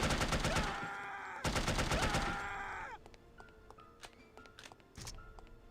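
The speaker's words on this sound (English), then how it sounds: "Who's shooting me?" Gunfire in the video game No One Lives Forever crackles in two long rapid bursts, loud and close, then gives way to sparser scattered shots and game effects.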